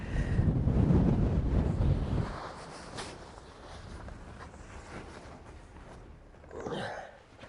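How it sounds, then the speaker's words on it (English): Strong wind gusting over an exposed hilltop wild campsite on Kinder Scout, roaring loudly against the microphone for about two seconds, then easing to a softer, steady rush with a brief swell near the end. "Wow, it's still blowing over the top here, really blowing strong."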